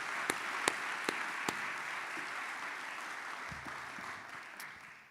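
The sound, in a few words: audience applause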